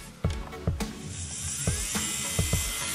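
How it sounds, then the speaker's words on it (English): A MelodySusie nail dust collector runs with a steady whirring fan noise, overlaid by repeated sharp taps and filing scrapes at an uneven rhythm, close and fairly quiet. "Okay, then I'm gonna turn my dust collector on."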